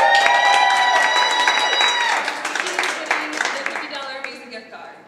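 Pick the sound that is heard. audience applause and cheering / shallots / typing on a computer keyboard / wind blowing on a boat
audience applause and cheering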